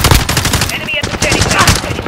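Loud rapid automatic gunfire in Call of Duty: Modern Warfare during a Hardpoint match on the Shoot House map, a dense continuous burst close up.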